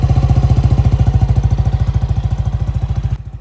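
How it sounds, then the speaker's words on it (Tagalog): Motorcycle engine fitted with a JBT version 2 Silent Killer muffler, idling with a rapid, even exhaust pulse that is loud and close, then cutting off abruptly near the end. "Una, tinry natin ito sa JBT version 2 silent killer na muffler."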